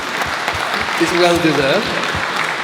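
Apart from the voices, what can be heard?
round of applause for panel speakers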